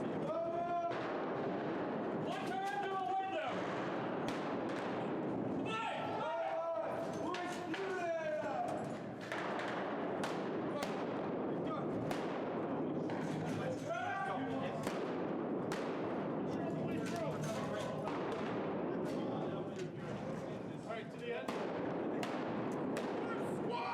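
Gunfire in a firefight crackles in repeated sharp bursts and single shots at uneven intervals, with shouting voices and talk mixed in throughout.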